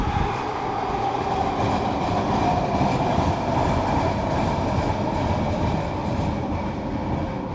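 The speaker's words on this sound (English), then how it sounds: "It's such a loud train, I know." A loud train rolls steadily past close by, its continuous rumble and rattle of wagons filling the whole stretch with no talking.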